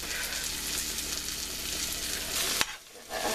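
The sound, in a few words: frying General Tso's chicken in a pan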